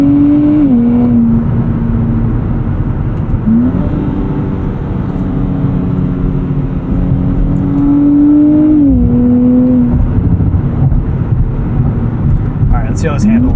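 A 2024 Nissan Z NISMO engine revs and accelerates at night, rising through several gears with upshifts, loud and close from inside the car, while someone talks over it.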